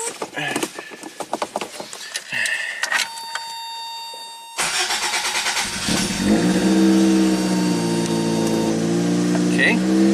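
A 1987 Toyota MR2 fires up after some clicks and cranking, then settles into a steady, loud, near idle that rises slightly as it runs, with people speaking over it.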